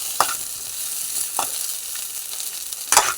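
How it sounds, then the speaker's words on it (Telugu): Onions frying in oil for stuffed brinjal curry, a loud close sizzle punctuated by three scraping stir strokes, with no talking. "నూనెలో వేయించుకోవాలండి. ఉల్లిపాయలు దోరగా వేయించుకోవాలండి"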